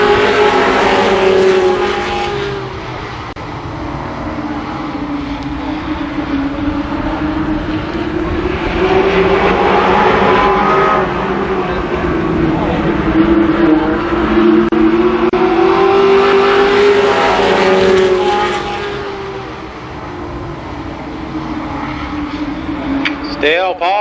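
Race cars lapping Columbus Motor Speedway, an oval track, in a 1993 race: a loud, continuous engine roar that swells and fades as the pack passes, with an announcer talking over it throughout.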